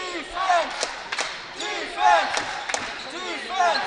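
A college basketball crowd in a gym chants "defense" in a repeating two-beat rhythm, loud and echoing, with scattered shouts and whistles between the chants.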